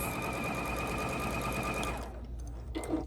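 A Juki DX7 sewing machine stitches steadily at close range with a fast, even mechanical whir, then stops abruptly and leaves a couple of faint clicks.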